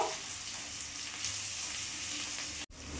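Crushed garlic cloves sizzle in hot oil in a pan, a constant close hissing fry that carries on evenly, broken by a brief dropout near the end.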